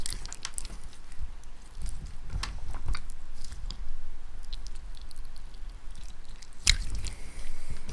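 Wet, sticky squishing and squelching sounds repeat irregularly up close on a table, with soft clicks and smacks as slime is pressed and pulled.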